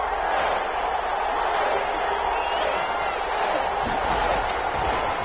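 A football stadium crowd roars in a continuous, loud, dense wash of cheering noise, steady throughout without distinct pauses.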